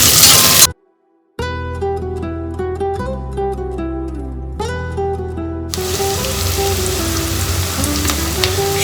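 Sliced green chillies sizzle in hot oil for a chicken dish. A brief burst of frying opens, then tuneful background music plays alone, and a loud, close sizzle returns for the last few seconds under the music.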